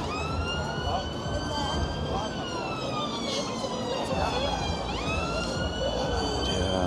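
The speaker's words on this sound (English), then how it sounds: "So we've got an ambulance already whipping down." An ambulance siren wails continuously as it passes, rising and falling in pitch, over steady traffic rumble and some background voices in crowded Blackpool.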